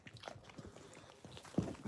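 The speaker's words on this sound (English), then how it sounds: "That's the dog chewing a bone" A dog gnaws on a bone up close, giving irregular crunching and biting noises through a quiet room, with a louder burst of chewing near the end.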